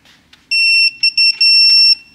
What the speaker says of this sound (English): Turn on the handy dandy gear wrench,